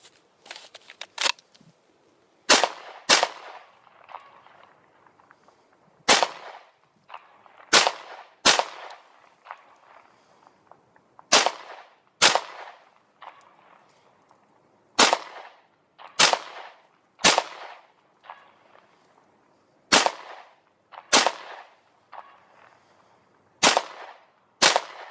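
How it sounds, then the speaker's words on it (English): A Smith & Wesson M&P .40 pistol fired at a shooting range in defensive-style practice: sharp close gunshots in pairs and triples, with short pauses between strings, each crack loud and followed by a brief echoing tail. "I'm going to pick things up a little bit, and we'll try a little bit more defensive style shooting"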